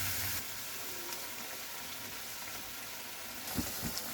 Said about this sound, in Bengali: এবার আমি চিংড়ি মাছ ভাজাগুলো এর মধ্যে দিয়ে দিলাম।